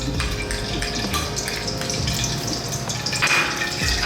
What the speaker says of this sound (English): we're going to get a very small amount, as you can see here, of fenugreek seeds and mustard seeds. So in they go.